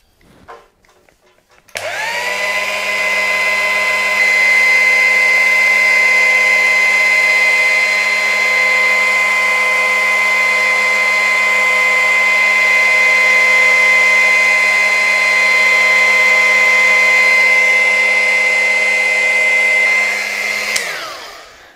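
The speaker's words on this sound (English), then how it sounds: "I use the second gear of the polishing machine, not more, so it runs super slow." Car paint polishing machine running on its second, slow gear over a paint run, a loud steady motor whine that starts abruptly, holds an even drone for about twenty seconds, then cuts off.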